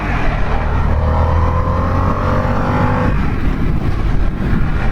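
A 2021 Harley-Davidson Sportster S engine accelerates on a ride, its revs climbing in a rising drone under heavy, continuous wind rush, close and loud throughout.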